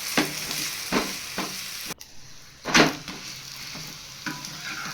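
Drumstick leaf masala roti cooking on a hot pan, with soft sizzling and frying punctuated by a few brief scraping or pressing bursts, quiet and close with no talk.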